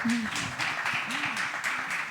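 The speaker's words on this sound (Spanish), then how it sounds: "Aplausos, por favor." An audience at a talk on cultural change in Mexico applauds with steady, dense clapping while voices are heard briefly over it.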